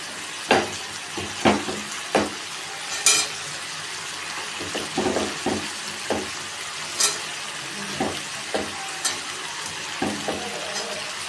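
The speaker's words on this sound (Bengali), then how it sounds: "এবারে আমি গাজরগুলো দিয়ে দেবো।" Carrots tumble into a hot frying pan with spiced paste and sizzle steadily, with repeated sharp scraping and stirring clacks of a utensil against the pan throughout.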